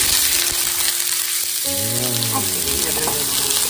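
Potatoes frying with onion and mushrooms in a pan, a loud close hiss of hot fat that keeps going under a short tonal sound partway through, with no speech.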